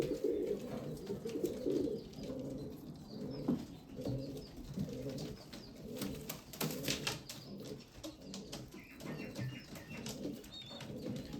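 Pigeons coo continuously in a loft of newly paired birds, several low throaty calls overlapping in a steady rhythm, with occasional wing flaps and faint chirps nearby and no talking.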